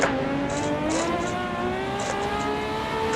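A Ferrari 335S Scaglietti Le Mans racer in Assetto Corsa, driven at Imola, revs hard under acceleration, its engine tone climbing steadily and loudly, with faint tire noise over the continuous roar.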